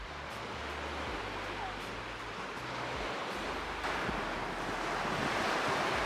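Ocean surf washes steadily against a beach shore where green beach glass collects, a continuous broadband roar of breaking waves with some wind buffeting and no speech.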